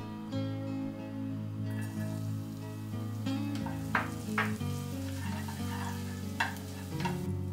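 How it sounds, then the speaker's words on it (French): Steady frying sizzle of garlic in chili oil in a hot pan over high heat, with occasional stirring scrapes and clinks over the constant crackle. "dans une casserole à feu vif, l'équivalent d'une cuillère à soupe d'huile pimentée, y faire revenir l'équivalent d'une gousse d'ail"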